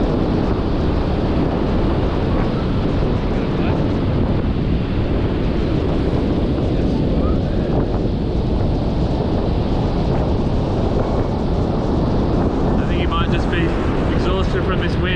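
Strong, steady wind buffeting the microphone on an Australian coastline, a loud continuous roar with surf-like rumble running throughout and no pauses.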